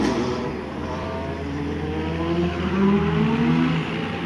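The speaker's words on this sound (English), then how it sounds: "that noise will tell you that the cars are moving out onto the track" Race cars leaving pit lane onto the track during qualifying for the 6 Hours of Sao Paulo endurance race, engines droning and revving with rising and falling tones, a steady mechanical roar heard from a moderate distance.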